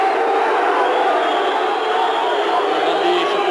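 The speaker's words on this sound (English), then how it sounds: "Booing the referee's decision" A large football crowd at a 1983 Dundee v Dundee United Premier League match boos a referee's decision, a dense, steady roar of many voices that holds at the same loudness throughout.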